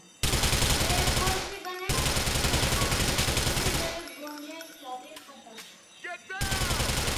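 Rapid bursts of automatic gunfire in GTA 4 rattle loudly in long strings, broken by brief pauses filled with scattered single shots and clanks.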